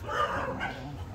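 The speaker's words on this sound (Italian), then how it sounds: "Come potete notare ci sono un bel po' di cani" Stray dogs at a dog temple in Arambol, Goa bark and yip briefly, a short close burst of canine vocalizing with a whimpering edge, mixed with faint background voices.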